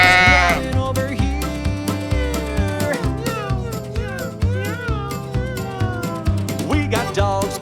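Sheep bleating on a farm in a cartoon-style children's song, with wavering bleats over bouncy, loud music throughout.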